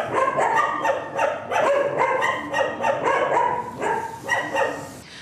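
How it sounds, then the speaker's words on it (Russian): Stray dogs locked inside a warehouse holding facility, unfed and unwatered, bark and yelp continuously, with overlapping barks and whimpering howls from several animals close by and loud throughout. "животные воют круглыми сутками, так как их никто не навещает"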